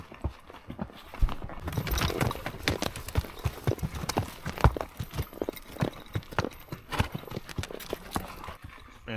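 Mule hooves clip-clop in a steady, uneven walking rhythm while riding through trees, close and fairly loud, with light rustling between the steps.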